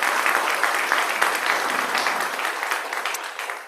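A church congregation applauds during a service, a dense wash of clapping that holds steady and slowly fades toward the end.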